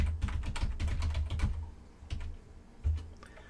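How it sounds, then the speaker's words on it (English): A username and password typed on a computer keyboard at a login screen: a rapid run of close, crisp keystrokes for about a second and a half, then a few scattered clicks. "you can type a username and the password"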